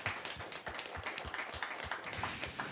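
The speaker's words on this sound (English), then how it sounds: "Henner Bruhn, Mario Gerhold, Vladimír Gersl, please applause." Audience applause after a panel discussion at a festival: a faint, scattered patter of hand claps from a modest crowd, moderately distant, with no voices.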